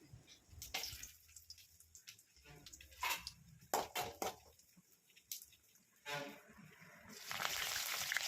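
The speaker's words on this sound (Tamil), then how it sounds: "எண்ணெய் சூடானதும் அதில் கடுகு, கொஞ்சமாக உளுந்து, கடலைப்பருப்பு போட்டு" Crackling, spattering sizzle of mustard seeds, urad dal and chana dal frying in hot oil, with intermittent sharp pops and bursts, close up and fairly loud.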